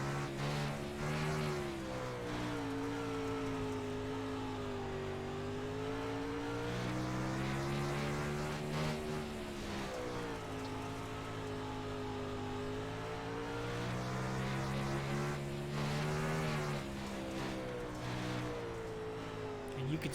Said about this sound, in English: Listen to that throttle.